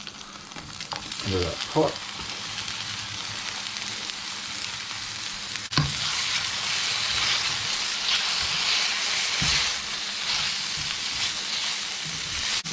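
Sliced bell peppers and half a red onion sizzle and fry steadily in a hot pot, a loud continuous crackle that jumps up as more goes in, with someone speaking briefly over it at the start.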